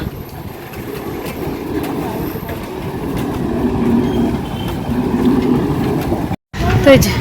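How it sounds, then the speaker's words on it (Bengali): A train rumbles past a closed level-crossing gate with a steady low roar and faint rhythmic wheel clatter, heard from nearby. Brief talk comes in near the end after a short dropout. "এদিকে দেখো গেট করেছে ট্রেন যাচ্ছে"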